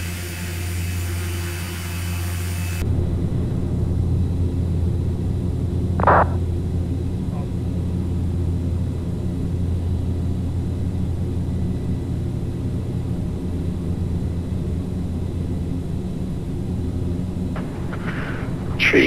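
A Carenado Fokker 50 turboprop airliner taking off in a flight simulator, a steady loud engine drone sustained throughout, with a couple of brief chirps over the roar.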